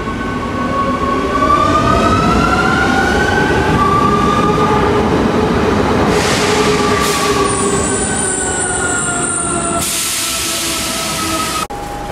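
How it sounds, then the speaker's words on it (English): Tram in Rome arriving and pulling away, with loud close rumbling of wheels on rails, drawn-out metallic squealing tones rising and falling, and a brief hiss of air near the end. "There it comes."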